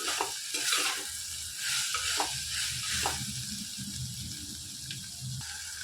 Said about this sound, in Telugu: మొత్తం ఒకసారి కలిపేసుకొని ఒక రెండు సెకండ్లు ఉడికించుకోవాలి